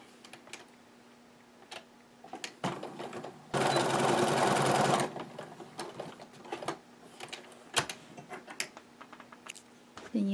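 A sewing machine stitches fabric for a scrub cap in a short, dense burst of steady whirring, surrounded by scattered ticks, clicks and fabric handling noises, close up and fairly quiet.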